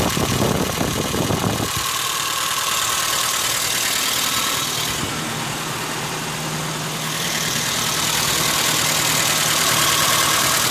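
A 1974 Ford Courier engine fitted with a Weber carburetor idles steadily and loudly up close, a continuous rumbling drone with no talking.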